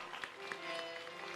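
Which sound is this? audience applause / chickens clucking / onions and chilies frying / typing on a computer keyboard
audience applause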